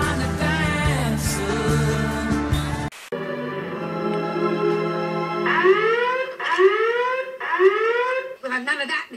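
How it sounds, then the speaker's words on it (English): An electronic alarm going off, loud stepped beeping tones followed by rising sweeping wails repeated several times, following a burst of music with no pause. "That was my virgin alarm. It's programmed to go off before you do."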